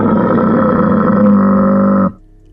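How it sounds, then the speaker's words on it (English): A camel gives one long, loud, droning groan close by, steady for about two seconds and then cut off abruptly. "camel sounds."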